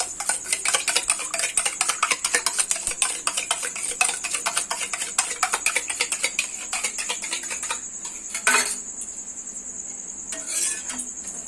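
A homemade chicken roll fries in a pan, giving a close, steady high sizzle layered with quick rhythmic scraping clicks from a utensil that thin out toward the end, where two brief louder hissing bursts stand out; no one speaks.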